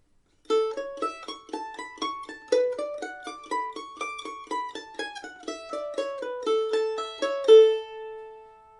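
A plucked mandolin plays a quick phrase of many short, bright notes in steady rhythm, close and clear, ending on a sustained note.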